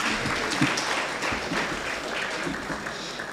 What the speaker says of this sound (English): A round of applause again for my Lord.